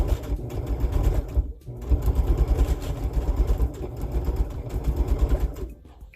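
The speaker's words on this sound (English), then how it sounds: "stitch those together with our 1/4 inch seam" A sewing machine stitches a quarter-inch seam while piecing quilt blocks, a continuous rapid mechanical chatter with a low motor drone that runs steadily and briefly dips before resuming.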